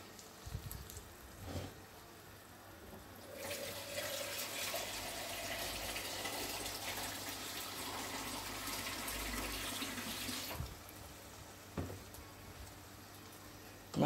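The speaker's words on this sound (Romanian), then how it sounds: "deci pot să adaug apă." Water poured into a pan of toasted rice while making Mexican rice with smoked mackerel, a steady broad rush lasting about seven seconds in a kitchen, with brief clatter before and after.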